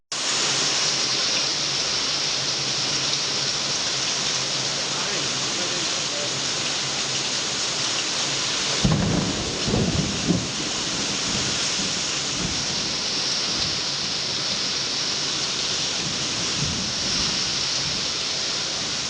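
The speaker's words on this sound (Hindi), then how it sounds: "आज बोधन के अलावा आसपास के बाज़ मुकामात पर गरज व चमक के साथ तूफानी व मूसलाधार बारिश हुई" Heavy, steady downpour from a thunderstorm in Bodhan, with a dense rain hiss throughout and a rumble of thunder rising briefly about halfway through, loud and close with no talking.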